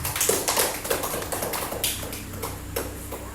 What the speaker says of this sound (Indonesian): Mari kita beri aplaus dulu untuk kelompok 3